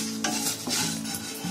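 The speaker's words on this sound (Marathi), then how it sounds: "जिरा टाकते, आणि 2 मिरची आणि जायफळचा तुकडा. हे आपल्याला भाजून घ्यायचं आहे." Cumin seeds, two green chillies and a piece of nutmeg dry-roast in a pan. Soft scraping stir strokes and a faint light sizzle come in a few short bursts, close and quiet, with no voices.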